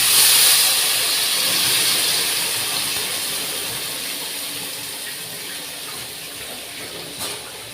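Tomato chutney tipped into hot tempering oil in a home kitchen sizzles with a loud, close hiss that swells at first and slowly fades, settling to a softer frying crackle.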